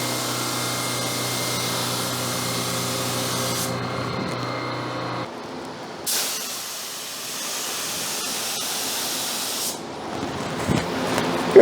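Spray gun laying a first coat of paint on a square-body Chevy K10 truck, a steady close hiss that stops and restarts several times, with faint shuffling between passes.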